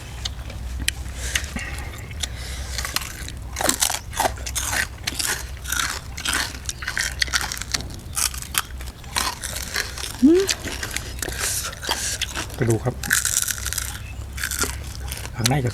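Crispy deep-fried pork tail with Thai papaya-style spicy salad, bitten and chewed close to the mic with loud, repeated crunches and crackles, someone talking over much of the eating.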